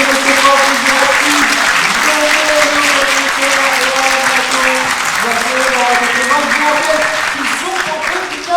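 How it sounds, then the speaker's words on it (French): Audience applause at a gaming convention stage show, sustained clapping across the whole stretch, loud and dense, with tonal music or a voice line running through it. "Applaudissements, s'il vous plaît"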